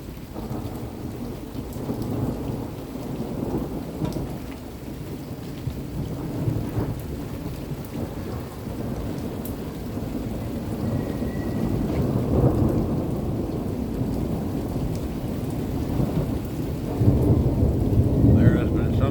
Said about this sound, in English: But there's a lot of thunder activity.